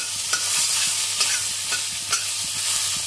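A marinated fish head, coated in turmeric, salt, cumin powder and mustard oil, fries in mustard oil with a steady, close sizzle. Several stirring scrapes punctuate the frying at irregular intervals, and no one speaks.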